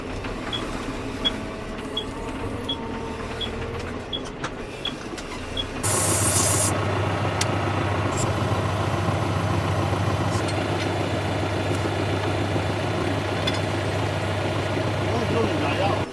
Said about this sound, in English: Uncle Dave's turned up with the tractor